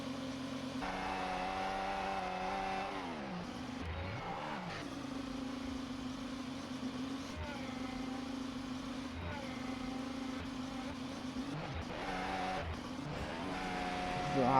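Onboard Charles Leclerc's Formula 1 car at the 2023 Austrian Grand Prix, the engine whines steadily at high revs with a few downshift dips and pitch sweeps, a commentator's voice faintly underneath.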